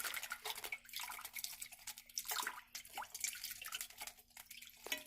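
Water poured over a baby bird during its bath, a continuous broadband splashing and trickling with irregular surges, close and moderately loud, no voices.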